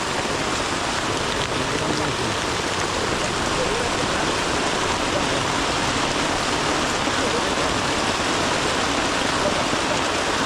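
Heavy rain pours down in a forest, a loud, dense, constant roar of drops on foliage and ground that holds steady from start to finish.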